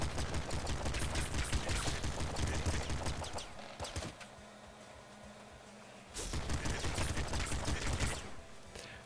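Rapid gunfire and explosive blasts from a grenade launcher in the top-down shooter Nuclear Throne, loud and dense for several seconds. The barrage drops out briefly, then resumes just as heavily.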